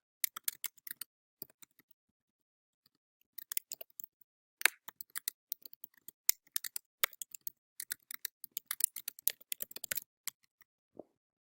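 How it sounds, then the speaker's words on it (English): Typing on a computer keyboard, close and quiet, with irregular bursts of light key clicks and short pauses between them. "I can now type whatever I want"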